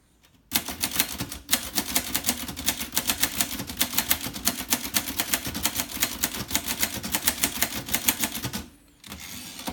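Rapid, steady typing on a 1955 Groma Kolibri portable typewriter with a QWERTZ keyboard, a dense run of crisp, close key strikes for most of the stretch, stopping briefly near the end before resuming.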